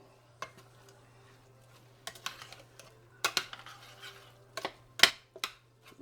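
Oregano and other seasonings mixed in a bowl, heard as scattered soft scrapes and clinks against the bowl over a steady low hum, with long quiet gaps between.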